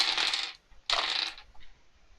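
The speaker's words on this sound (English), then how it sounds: "getting my dice out." Plastic dice for a tabletop roleplaying game are tipped out onto a table, giving two bright rattling clatters about half a second each, close and fairly loud with no talk, followed by a faint small tick.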